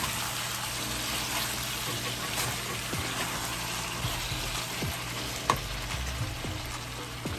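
Stew pork with fresh tomatoes, bell peppers and sugar is stirred in a pot, giving a steady sizzle with scraping and wet clicks of the utensil throughout.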